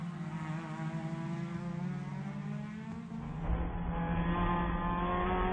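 Spec MX-5 race cars racing at Sebring give off a continuous engine drone with shifting tones as they pass, rising in loudness and deepening toward the end.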